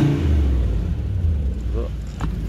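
Audi A6 4B C5 4.2 V8 Quattro S-line, lowered, with a defective automatic gearbox, its engine rumbling and revving nearby in a deep, steady low drone while someone speaks over it.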